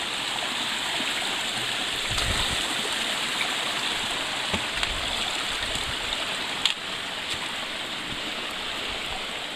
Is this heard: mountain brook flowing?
yes